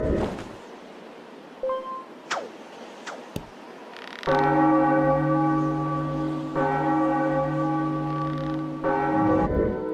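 A huge bell rung at the top of a tower in a Zelda game tolls loud and close, with a long ringing sustain after a quiet stretch of faint effects.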